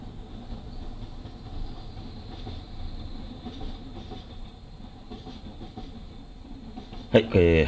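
A freight train from Sumidagawa rolls past near Nagano, Japan, with a continuous rumble and rhythmic clickety-clack of wheels on rails; a voice starts speaking just at the end.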